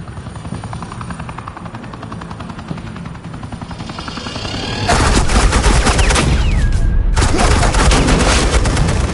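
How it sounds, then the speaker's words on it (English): Suppressing gunfire in the video game Batman: The Enemy Within, a loud sustained burst of rapid shots that starts partway in over a droning helicopter-like rumble, dense and continuous. "This is Agent Quinn, suppressing fire."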